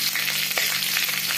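Curry leaves, dried red chillies and green chillies sizzle in hot oil with mustard seeds in a kadai, a steady close crackling hiss with small pops.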